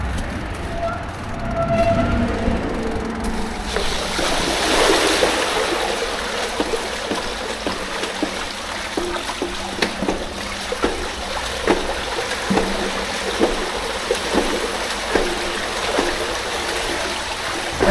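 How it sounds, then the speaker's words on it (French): A mountain stream flowing while a rider crosses it on a mountain bike, giving steady broad rushing water with splashes and knocks of wheels and feet, loud and close throughout. "Je vais devoir aller remettre les roues dans l'eau là-bas."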